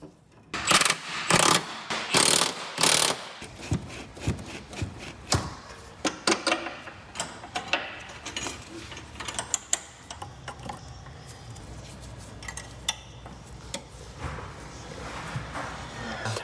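Ratchet tightening the four subframe bolts on a 2021-24 Ford Bronco Sport during a lift install, starting with a few loud close clicking bursts, then settling into lighter irregular ratcheting and metallic clicks over a low background hum.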